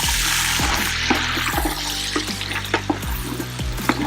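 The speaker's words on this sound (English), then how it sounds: "I'm cooking with all that bacon grease in there too, so it's sauteing these vegetables" Celery, carrots and onions sizzle as they saute in bacon grease, a steady frying hiss broken by a few sharp utensil knocks and stirring sounds close by.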